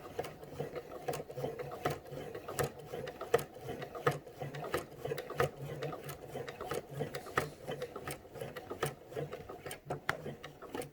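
A sewing machine stitches in the ditch on quilted fabric, running in short rapid bursts of needle clatter with brief pauses, close and fairly quiet.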